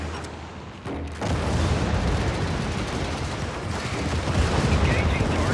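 Artillery stratagem strikes in a video game land as a dense, continuous barrage of heavy booms and rumbling blasts, starting after a short lull and holding loud throughout.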